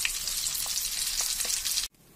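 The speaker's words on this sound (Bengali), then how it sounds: "হলুদ মাখিয়ে ডিমটাকে ভাজতে বসিয়েছি।" Eggs coated with turmeric fry in hot oil with a steady close sizzle and faint crackles, cut off abruptly near the end.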